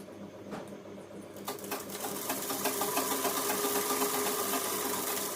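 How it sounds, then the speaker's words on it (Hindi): A sewing machine stitches a salwar seam, its rapid mechanical whirring starting softly and growing steadier and louder, running continuously without talk. "अब दूसरी साइड पे हम 1/4 इंच पे सिलाई करेंगे।"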